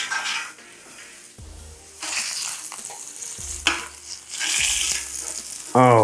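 Salmon fillets sear loudly in a hot pan, the sizzle surging and easing in waves as the pieces shift, with a few low thumps and a short metallic clink at the end.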